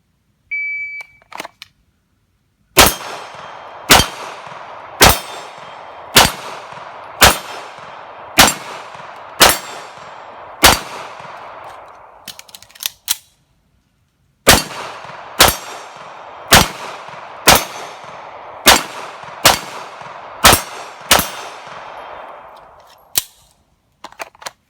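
Soft-shooting 9mm reloads fired from a Star BM pistol at steel targets outdoors, two strings of about seven sharp shots each at an even rhythm, each crack followed by a ringing metallic clang, with a pause between strings and no talk.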